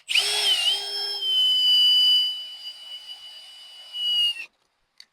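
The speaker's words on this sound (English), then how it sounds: "Leaves a nice indentation for the drill to go ahead and stay centered." A power drill whines at a high, steady pitch while boring into the metal of a 1957 GMC, close and clear for about four seconds, then cutting off abruptly.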